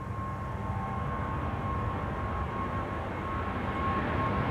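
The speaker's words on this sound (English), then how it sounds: "This is KLM Flight 661 to Houston in Texas, the PH BQB 777-200 on its way to Houston in Texas." A KLM Boeing 777-200, registration PH-BQB, taking off from Schiphol's Kaagbaan runway 24 produces a faint, steady distant engine rumble with a thin whine running through it, with no talk.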